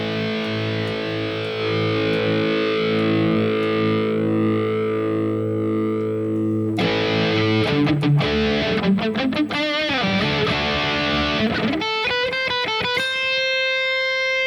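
An electric guitar plays through a Bogner amp model on a Harley Benton DNAfx modeling unit, with distorted sustained chords first, then faster picked riffs and muted chugs, loud and alone.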